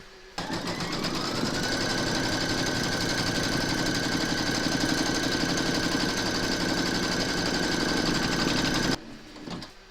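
A home embroidery machine stitches an outline round through batting in the hoop for a notebook cover, giving a loud, fast, steady mechanical whirr and needle chatter that runs nearly nine seconds and then stops abruptly.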